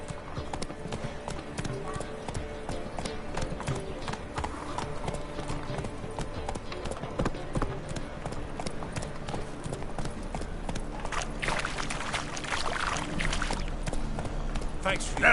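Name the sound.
horse Roach galloping in The Witcher video game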